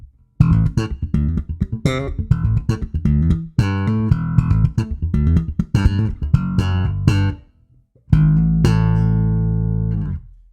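Bass guitar through a Trace Elliot Elf bass head, gain turned down, plays a busy fingerstyle run of plucked notes, loud and close, pausing briefly twice before a final low note rings out.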